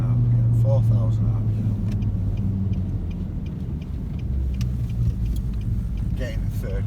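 A Nissan 4x4 engine hums and rumbles steadily while held at high revs in gear under load, close and continuous, with someone talking over it.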